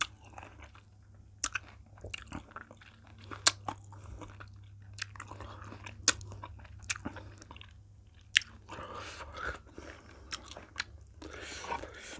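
Someone eating a large batch of sour wild fruit, with sharp crunchy bites and wet chewing clicks scattered across the clip over a low steady hum, close and fairly faint, with no speech.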